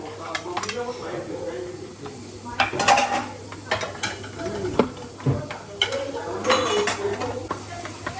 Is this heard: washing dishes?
yes